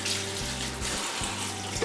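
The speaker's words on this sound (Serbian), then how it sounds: "I sada je potrebno sa hladnom vodom oprati list po list." Cold tap water runs steadily into a sink while spinach leaves are rinsed one by one, a close, continuous splashing stream with slight interruptions as the leaves pass under it.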